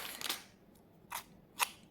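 Scissors being handled give a few faint metallic snips and clicks, spaced apart in a quiet room.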